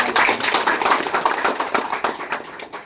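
A crowd applauding at a political welcome rally for a legislator in Dodamarg, dense steady clapping from many hands that fades slightly toward the end.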